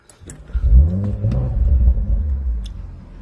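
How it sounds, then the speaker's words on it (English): An Audi RS4 Carbon edition engine fires up from the ignition with a brief starter whir, then a deep, loud rev swells and settles into a rumbling idle up close. "I'll just turn the ignition on."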